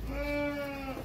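A single drawn-out bleat from a nearby sheep, clear and wavering for about a second, with no talking.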